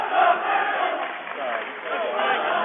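A basketball crowd at a boys high school game between Brush and Faith Christian in Fort Collins, yelling and cheering in a steady roar that swells and dips slightly, heard thin and muffled.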